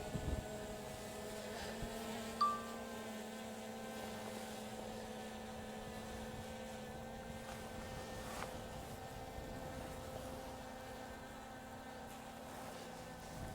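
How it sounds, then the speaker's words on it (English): A DJI Air 2S drone hovers overhead at Eagle Island State Park, producing a faint, steady high-pitched hum with constant tonal whine over quiet outdoor background, with no talking. "look up at the drone, Tanya."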